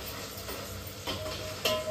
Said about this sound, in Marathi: जरा परत परतून घेते